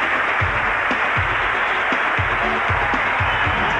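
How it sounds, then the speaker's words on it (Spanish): A theater crowd at a David Copperfield magic show applauds for a volunteer, loud continuous clapping over a steady rhythmic low thump of music. "Y un aplauso para Helen."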